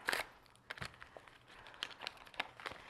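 Butter being unwrapped in a home kitchen while cooking Thanksgiving macaroni and yams, a few short crinkling and rustling bursts of paper packaging, close and fairly quiet, with gaps between.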